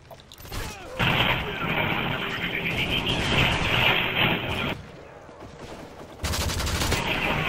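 Video game gunfire erupts in sustained, loud automatic volleys that cut off abruptly, pause and then resume, with mechanical clatter between bursts.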